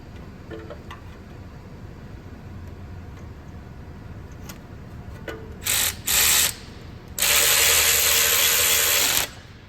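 A ratchet tightens the last exhaust manifold bolt, underneath in the center, on a 2001-2005 Honda Civic: a few faint clicks, then short bursts and one longer run of close, loud ratcheting, with no talk.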